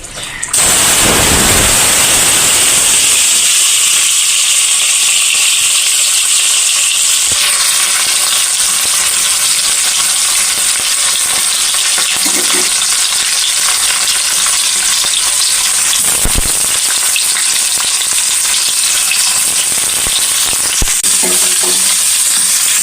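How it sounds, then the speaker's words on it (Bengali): Paneer pieces tipped into hot mustard oil for a Bengali aloo paneer, bursting into a loud, steady sizzle that carries on without a break, with occasional stirring clatter. "তেলটা গরম হয়ে গেছে, তো এই তেলের মধ্যে আমি এই পনিরগুলো ঢেলে দেব।"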